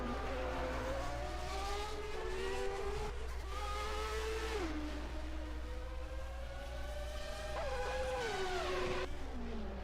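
1991 Formula One cars at the Canadian Grand Prix, a Honda V10 against a Ferrari V12, scream through their gears with high, shifting engine notes that rise and fall, all under a steady low rumble.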